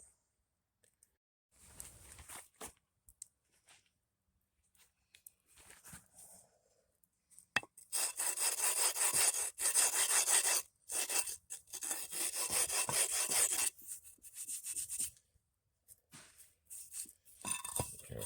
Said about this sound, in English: So I'm going to rub it up on this stone.